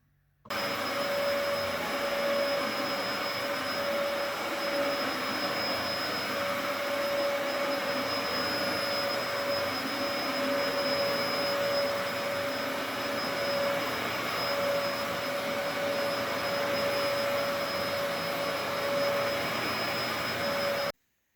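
A vacuum cleaner runs continuously after maintenance, with a steady whine and airy roar, close and loud from start to finish.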